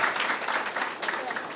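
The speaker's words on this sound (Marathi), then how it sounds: "आमदार कॅप्टन सेल्वनजी यांच्यासाठी जोरदार टाळ्या झाल्या पाहिजे" An audience at a Mumbai civic event fills the hall with dense, continuous applause for a local legislator. The clapping stays loud and close throughout with no individual beats standing out.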